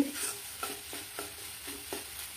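Taki fish chutney fries in oil while a spatula stirs it in a pan, producing a soft sizzle broken by about five rhythmic scraping strokes, close and fairly quiet, with no voices.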